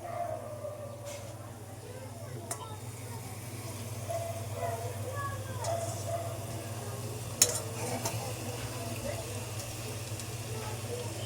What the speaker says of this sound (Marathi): आपला हा पास्ता एकदम म्हणजे बॉईल केलेला पास्ता टाकून घेऊया